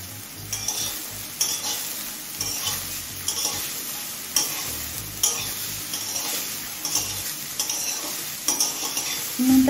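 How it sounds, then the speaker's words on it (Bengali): Broccoli frying in a pan with salt, stirred with a utensil: a continuous sizzle broken by repeated scraping strokes against the pan at an uneven pace, close by and without voices. "এবার ব্রোকলি সিদ্ধ হয়ে আসা পর্যন্ত মিডিয়াম ফ্লেমে ভেজে নেব।"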